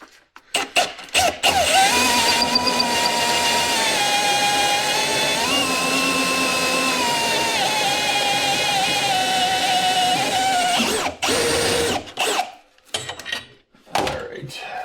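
A power drill with a half-inch bit whines steadily for about ten seconds, high and loud, then stops, followed by a few short clunks and rustles.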